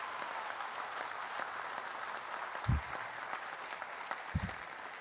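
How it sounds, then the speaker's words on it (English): Audience applause at a Harvard Graduate School of Education convocation, a steady wash of clapping throughout with a couple of low thumps, moderately distant and even in level. "Give him a round of applause for what he's doing."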